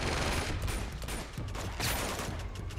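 Rapid automatic gunfire from a machine gun in the video game Uncharted 2, a dense, loud and continuous barrage with overlapping bursts and no talking.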